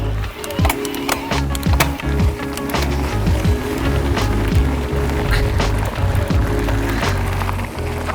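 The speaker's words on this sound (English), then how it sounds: "So that was a 100-meter dash done on the e-bike in turbo mode." An e-mountain bike in turbo mode sprints a 100-meter dash on a gravel road, giving loud continuous tire crunch and rattling with a whirring hum and bumps, close to the rider, with no talking.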